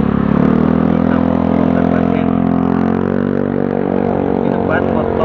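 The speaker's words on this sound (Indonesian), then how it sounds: "di depan motor knalpot blok tanpa sen dan tanpa plat nomor" A loud motorcycle with an aftermarket exhaust roars close by on a street in Bukittinggi, West Sumatra, a harsh, raspy exhaust holding a steady throaty rev.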